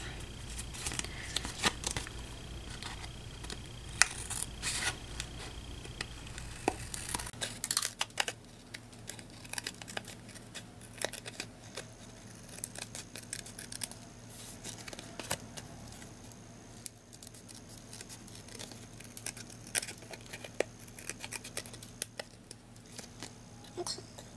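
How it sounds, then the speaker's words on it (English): Scissors snip through card stock while cutting a herringbone-pattern card, a run of small, close, crisp clicks and crunches over a faint hum, with no speech. "You go ahead and cut all the way to the end of your card."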